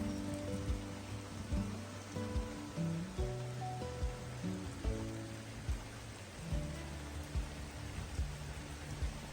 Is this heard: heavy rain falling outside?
yes